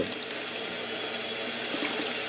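Water running steadily into a container drawn from a neglected, muddy steam boiler, a continuous broadband rush and splash close to the microphone with no pauses.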